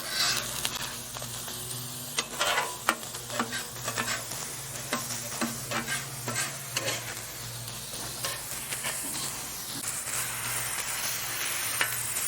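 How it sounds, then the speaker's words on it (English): Cabbage sizzles loudly on a griddle as it is scraped and lifted off, a dense close hiss broken by frequent sharp metal spatula scrapes and clicks throughout. "Let's go ahead and get this cabbage off."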